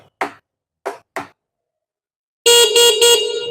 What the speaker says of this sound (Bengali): হর্নটাও অনেক আওয়াজ